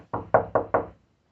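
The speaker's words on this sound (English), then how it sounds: "I knocked on the brick house." Four firm knocks on the door of a brick house, evenly spaced and close, hollow and heavy, followed by silence.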